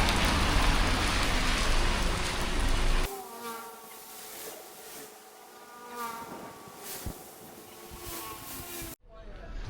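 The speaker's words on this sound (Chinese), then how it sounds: "听一听下雨的声音，感受一下雨水的味道" Steady, dense rain hisses loudly for the first three seconds on a trip in Penang, Malaysia, then cuts to quieter, sparser background sounds with faint tonal notes.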